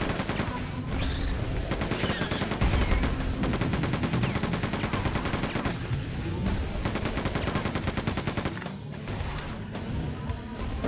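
Explosive weapon fire from Quake II: The Reckoning, with a rocket launcher among the guns: dense, loud, continuous volleys of blasts and impacts over about ten seconds, with no voices.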